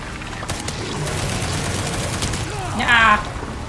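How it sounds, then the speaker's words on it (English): Machine gun fire in the video game Resident Evil Requiem, a loud dense stream of rapid shots under a player's voice, rising into a brief sharper burst near the end. "this is the one time in the game I've got to use the machine gun"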